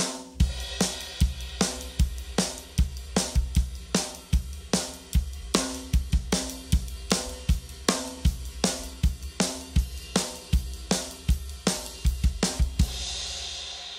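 A rock 'n' roll drum groove on a kit, with snare accents on beats two and four and steady quarter-note hi-hat. Punchy, evenly spaced hits repeat loud and close for the whole stretch, ending on a washy cymbal.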